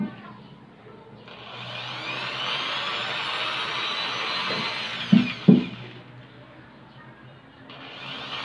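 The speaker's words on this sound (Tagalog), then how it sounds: "Ang gagawin naman natin dito ay ilalagyan natin ito ng butas para sa tornilyo." A power drill bores a screw hole in a homemade marble gun chamber, whining steadily for several seconds at close range, with a couple of sharp knocks near the end before the motor winds down.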